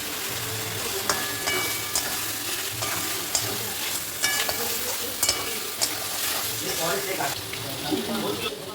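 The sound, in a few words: chicken frying in spice paste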